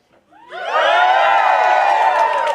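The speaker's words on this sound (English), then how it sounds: "I want you guys to cheer" Burlesque show audience at a Les Dames du Burlesque performance breaking into loud cheering and whooping that swells within a second and holds as a sustained roar of many voices.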